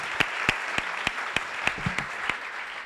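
Sparse, evenly spaced claps, roughly eight sharp single strikes, ring out over a steady background hum after a startup pitch at a live pitching event.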